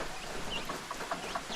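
Chicks and a rooster on a farm make faint, soft chirps and clucks, scattered through quiet background noise.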